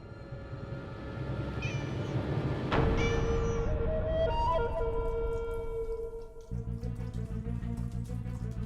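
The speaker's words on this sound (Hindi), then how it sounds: "तो बिल्ली माँ पूरा दूध पी गई अब।" A cat meows several times in drawn-out, wavering calls, loud and close, over sustained background tones, with a rhythmic pulsing texture toward the end.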